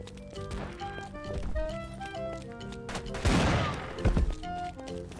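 Gunshots in an offline Android first-person shooter, with sharp shotgun blasts, one big crashing burst, then a second shot, all over looping game music.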